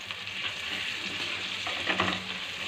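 Spices and masala frying in oil for Tamil kara kuzhambu, a steady close sizzle with occasional stirring scrapes, continuous and fairly loud, with no talking.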